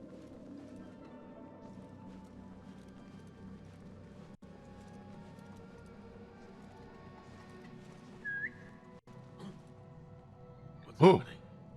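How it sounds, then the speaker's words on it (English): A short whistle sounds in the video game Assassin's Creed Mirage, a brief upward tone that rises over a quiet ambient bed with faint clip-clop, followed moments later by a louder sharp burst of sound. "Someone whistled."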